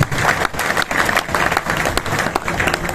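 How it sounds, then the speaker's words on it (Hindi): Business seminar audience in Gurugram applauding achievers, dense loud clapping from a large crowd filling the room continuously. "जोरदार तालियां होनी चाहिए अचीवर्स के लिए प्लीज।"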